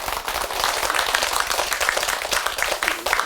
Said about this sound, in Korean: 그럼 박수라도 한번 치던데 그러자.